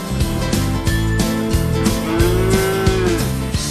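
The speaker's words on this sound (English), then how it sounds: "The herd at Almarai are able to produce more milk than other breeds of cattle." Holstein dairy cows on a large commercial dairy farm, several loud, close moos in quick succession, long bellowing calls overlapping one another across the whole stretch.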